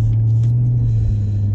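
A 2016 C7 Corvette Stingray's engine and exhaust hold a deep, loud, steady droning rumble close by, running continuously without talk.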